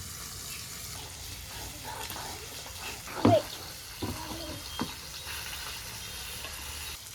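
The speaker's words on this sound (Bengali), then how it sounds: "এবার মাছগুলো ভাজবো আগে বাটা পোনাগুলো কড়াইতে দিলাম" Bata fish sizzle and spit in hot oil in a wok, a steady soft frying hiss with a few louder pops and clatters midway.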